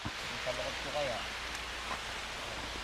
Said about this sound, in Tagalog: Ilang araw nang mainit, tapos uulan po ngayon yan.